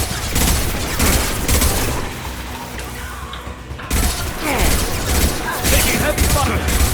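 Dense gunfire and weapon blasts from the Mass Effect Legendary Edition video game rattle loudly and continuously, with a brief lull around the middle before the bursts resume, while game character voices call out over the shooting.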